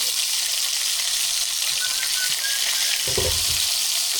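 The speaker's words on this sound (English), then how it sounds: "just let them eggs cook away" Eggs fry in a pan with a steady, close hiss of sizzling fat that runs unbroken throughout, joined near the end by a brief clatter.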